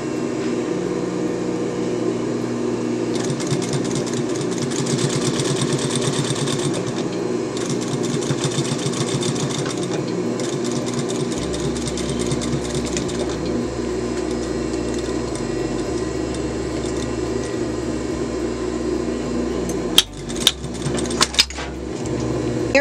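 A sewing machine hums as it stitches a waistband, running in several steady bursts with a mechanical whir, then stopping, followed by a few sharp clicks near the end.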